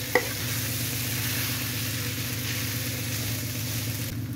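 Boiled noodles stirred in a frying pan while making noodle sandwiches, a steady close sizzle with a soft clink at the start and continuous frying hiss throughout.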